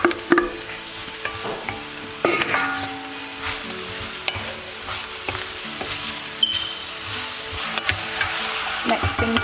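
Meat sizzles and fries in a pan with curry powder, with steady close hiss under scraping, clattering stirring strokes, and no talking.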